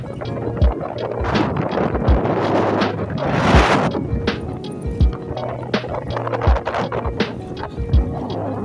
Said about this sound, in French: il y a un vent vraiment très puissant là